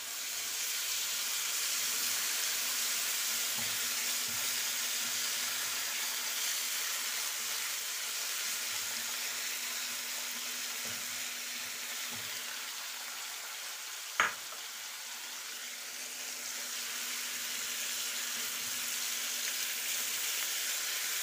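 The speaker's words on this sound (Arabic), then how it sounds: "هنزل عليها بالقونصة الاول عشان تتشوح معايا" Chicken gizzards sizzle steadily in hot ghee in a pan, a continuous broadband frying hiss with one brief sharp clatter midway and no talking.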